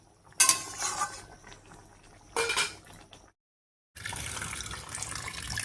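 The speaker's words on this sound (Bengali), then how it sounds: "এখন এই যে ঢ্যাঁড়স ধুয়ে নিচ্ছি" Okra is rinsed under running tap water in a sink, giving bursts of splashing and trickling with faint clinks of a bowl, a brief silent gap, then steady flowing water close by.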